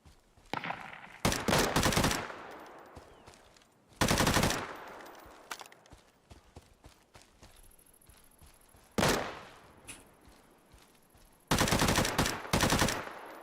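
Bursts of automatic gunfire from the survival shooter Deadside, several loud sustained volleys separated by quieter gaps with scattered single shots and thuds.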